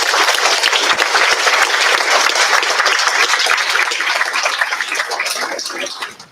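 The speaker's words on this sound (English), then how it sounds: "can I get a round of applause for everybody?" A large graduation ceremony audience bursts into sustained loud applause, dense clapping holding steady before tapering away at the end.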